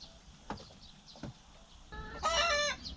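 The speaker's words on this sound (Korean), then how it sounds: "다른 암탉이 들어가 알을 낳으려고 하고 있다" Hens cluck around a nesting spot where one hen is trying to lay eggs while another sits on them. Two soft clucks come first, then a louder burst of rooster-like calls near the end.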